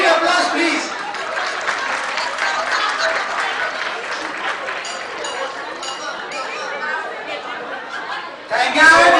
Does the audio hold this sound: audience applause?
yes